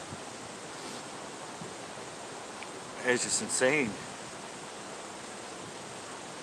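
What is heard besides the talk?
strong wind blowing through trees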